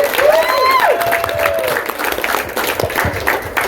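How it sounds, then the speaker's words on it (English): A crowd at an outdoor AK rifle event applauding, a dense burst of clapping close by that tapers off over a few seconds, with a brief whistle-like tone near the start. "let's give a round of applause for Clay and Tony for putting this on for everybody."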